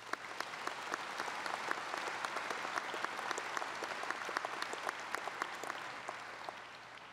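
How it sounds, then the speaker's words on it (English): A crowd applauds at a Lebanon High School graduation ceremony in 2023, with sustained, even clapping and sharp individual claps standing out throughout, loud and continuous. "let's give them one last round of applause for all that they have done for us"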